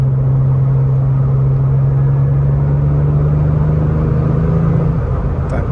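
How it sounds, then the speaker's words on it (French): A Porsche turbo engine holds a steady, loud, close droning hum with a deep rumble underneath, easing off slightly near the end, with no talking. "Quand tu accélères, tu t'entends le souffle des turbos aussi."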